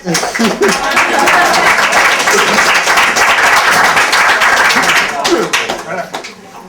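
Audience applause at a debate and information session at the Catalan community center in Zurich, dense steady clapping filling the room for several seconds before tapering off.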